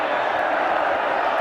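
A packed football crowd at a York City v Arsenal cup match sends up a steady, loud roar of voices and cheering that holds evenly throughout, heard from within the stadium.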